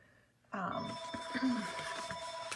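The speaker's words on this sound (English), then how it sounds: "sorry, phone's going off" A phone rings indoors at a card-making live stream, a sudden bright electronic ring starting partway through and continuing steadily, fairly close, with a voice talking over it.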